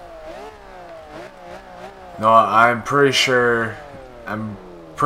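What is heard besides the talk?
2002 Ferrari Enzo engine revving in Forza Horizon 2 video game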